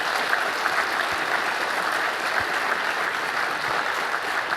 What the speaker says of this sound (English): This is where everybody claps for Bernie,